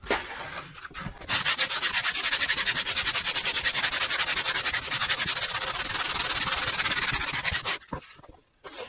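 Steady back-and-forth rasping of a hand sanding block on the body of a Mirus 25 electric build, close and continuous for several seconds, with brief pauses at the start and end.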